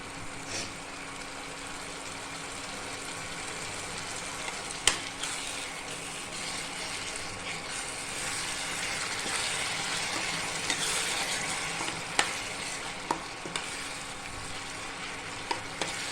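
Chicken frying with green chili, coriander and garlic paste for chicken sukka, a soft steady sizzle with occasional sharp spatula clicks and scrapes against the pan, close and fairly quiet.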